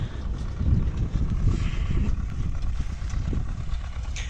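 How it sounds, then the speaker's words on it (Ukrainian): A T-25 tractor engine runs steadily nearby while potatoes are planted in a small field plot, a continuous low rumble with wind buffeting the microphone and no speech over it. "Садимо нашим тракторцем к 25 з джалкою своєю."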